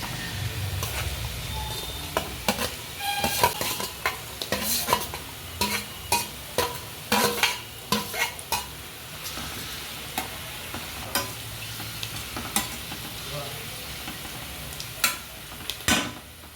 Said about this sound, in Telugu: ఇప్పుడైతే నేను ఉల్లిపాయలు వేయించుకుంటాను.